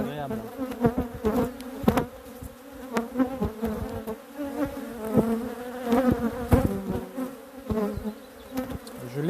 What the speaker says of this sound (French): je pense que là même vous ne devez même plus rien entendre tellement les abeilles sont sur le téléphone